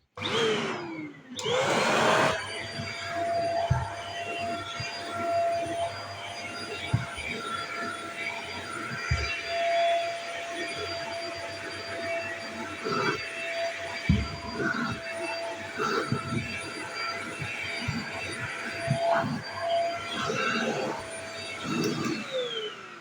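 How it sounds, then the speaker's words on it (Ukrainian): A Xiaomi Mi Dust vacuum cleaner runs on a fabric sofa, a close, steady motor whine with airflow rush that continues throughout, punctuated by brief bumps and scuffs as the nozzle moves, with a voice speaking briefly at the start. "цей пилосос чудово справляється"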